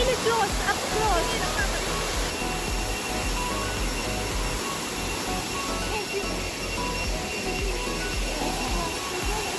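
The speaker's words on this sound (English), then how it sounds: "So finally we have reached our main location, the Serlui Waterfalls." Serlui Waterfalls in Mizoram roar nearby, a loud, constant rush of falling water that fills the whole stretch without a break.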